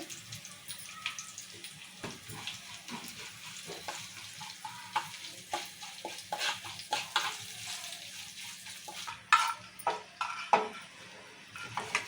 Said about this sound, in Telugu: తాలింపు వేగిపోయింది తాలింపు వేగింది